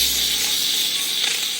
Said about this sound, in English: I'm going to take my steamer and just go ahead and just loosen up all the dirt.